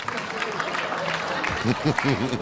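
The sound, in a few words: audience clapping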